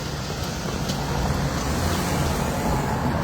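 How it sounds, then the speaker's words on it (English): City street traffic in San Francisco's Chinatown: a steady, dense roar of passing cars and heavier vehicles such as buses or trucks, fairly close and continuous, with no talking. "And there's the traffic."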